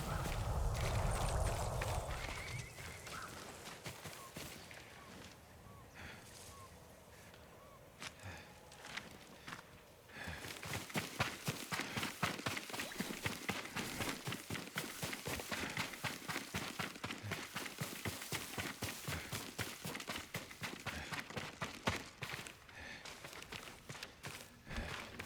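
A horse moves in the video game Ghost of Tsushima, with rapid, regular hoof-like thuds building up after a quieter opening and continuing steadily for the rest of the stretch, faint overall.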